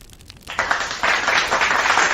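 A canned crowd cheer effect from an automatic cheer feature kicks in abruptly after a quiet start, a loud, dense wash of clapping and cheering that swells and holds to the end.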